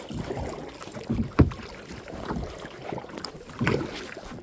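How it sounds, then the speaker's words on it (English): Kayak paddles dip and splash on a lake in a few uneven strokes, with one sharper close splash, against a soft wind background and no talk. "we're going to start paddling"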